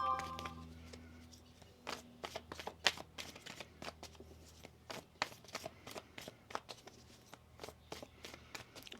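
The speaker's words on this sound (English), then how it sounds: "Let's get one more shuffle here." Tarot cards shuffled by hand close up, a run of quiet, crisp riffling flutters and soft slaps in uneven bursts, with a low hum fading out early.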